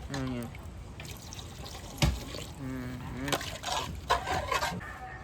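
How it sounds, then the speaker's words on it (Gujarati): Water poured into a pot of shrimp curry, a splashing, gurgling pour in short bursts under steady talking nearby. "નાખી દીધું પાણી"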